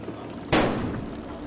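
A bomb squad robot destroying a fake explosive device: a single sharp blast from a moderate distance that rolls off into a lingering rumble, with no talking.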